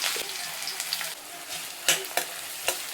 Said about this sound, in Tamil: வெங்காயம் ஒரு 2 பொடியாக நறுக்குனது நல்லா கண்ணாடி பதத்துக்கு வதக்கிக்கிடலாம் வெங்காயத்தை